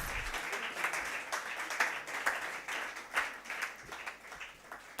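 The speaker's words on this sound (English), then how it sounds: "Please give her another round of applause" An audience claps steadily at a TELex Owutu 2022 event, fairly distant and moderately quiet, with no voices over it.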